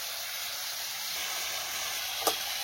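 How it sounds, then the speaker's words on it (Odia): Vegetables frying in a pan, a steady bright hissing sizzle that runs unbroken throughout, with one brief sharp knock near the end. "ଆଉ ପରିବା ତ ସେଠି ଭଜା ଚାଲିଛି ଆଉ।"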